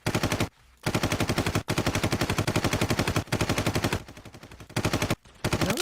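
An SMG fires in a video game in long, rapid automatic bursts separated by brief pauses, very loud and close with a dense, steady rattle and no talking.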